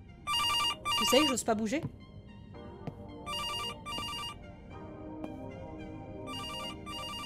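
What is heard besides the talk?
phone ringing in a horror video game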